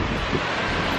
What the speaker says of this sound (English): Feel the wind off the waves.